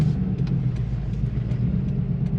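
Ford Crown Vic with a swapped 7.3L Godzilla V8 cruising in second gear, a steady loud low engine rumble heard from inside the car with no talk.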